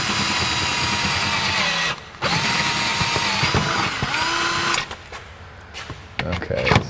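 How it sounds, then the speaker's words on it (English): A drill with a 5/16 bit in a keyless chuck bores a hole during a TKO600 transmission install: a loud, steady motor whine with a brief stop, then more drilling that ends in quieter clatter. "And I wanna drill straight."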